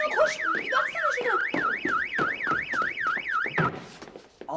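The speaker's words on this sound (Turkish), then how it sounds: "Baksana kameraya bile alarm taktırmış." An anti-theft alarm fitted to a camera blares a loud electronic warbling siren, rising and falling steadily for about four seconds before cutting off, with no talking over it.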